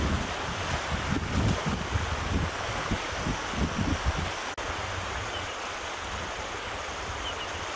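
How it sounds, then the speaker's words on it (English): The river below Hazelmere Dam flows slowly, heard as a steady broadband water rush with gusty wind buffeting the microphone, and no voices. "Today the river is flowing, but it is a white, slow river"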